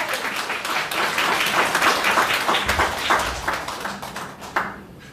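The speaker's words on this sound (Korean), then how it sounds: "박수로 환영합니다." A rally crowd at a patriotic national assembly in Incheon applauds to welcome a speaker, giving a full, continuous burst of clapping that holds steady and then begins to thin out near the end.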